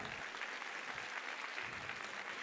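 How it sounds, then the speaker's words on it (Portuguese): Congregation clapping during a Catholic Mass homily, a soft, brief, continuous patter of many hands heard from a distance. "Então aplauda esse irmão que está aí do seu lado"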